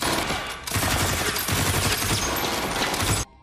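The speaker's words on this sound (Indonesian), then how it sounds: "baku tembak pun terjadi." A film gunfire exchange: a dense, continuous barrage of rapid shots and bursts filling the whole stretch at high volume, then cutting off abruptly at the end.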